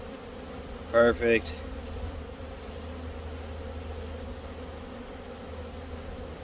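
Honey bees buzz in an open beehive during an October hive check with feeding patties, a steady low drone throughout with a brief spoken word near the start.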